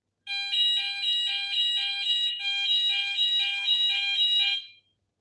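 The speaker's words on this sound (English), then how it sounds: "Sorry, there was an alarm," A fire alarm sounds alone with a loud, steady high-pitched electronic tone pulsing in rapid regular beats for several seconds before cutting off abruptly.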